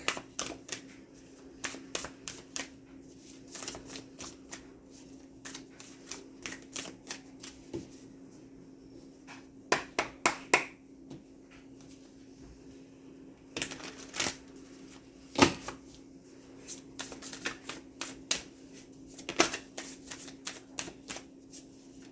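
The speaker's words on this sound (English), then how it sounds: "Longest shuffle I've ever had." Tarot cards are shuffled at length, soft riffles and sharp snapping clicks coming in irregular bursts over a quiet steady hum.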